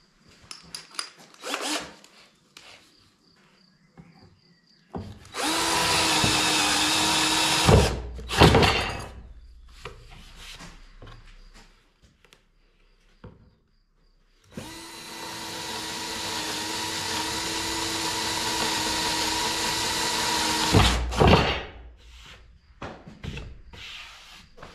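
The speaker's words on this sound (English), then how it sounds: "Not too much thinking, just drill a hole." A power drill bores a hole in wood in two long, loud, steady whirring bursts of several seconds each, separated by quieter handling knocks and rustles.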